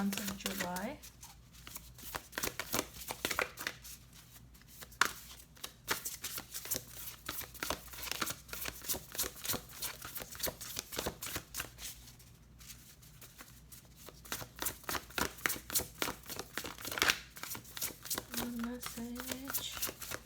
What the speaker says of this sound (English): let's try one less shuffle